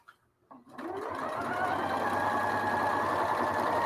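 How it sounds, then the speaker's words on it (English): Sewing machine stitching fabric pieces together: a few soft taps, then the motor spins up into a loud, steady close whir that continues to the end. "Get a couple of stitches in to get it started."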